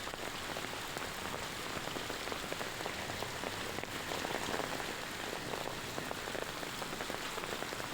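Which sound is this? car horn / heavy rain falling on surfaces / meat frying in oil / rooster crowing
heavy rain falling on surfaces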